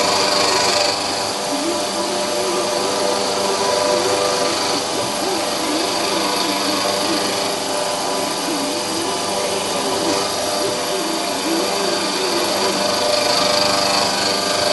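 A milling cutter plunges back and forth into metal while making a low-profile DTI holder, giving a continuous, close machining whine and grind that holds steady without a break.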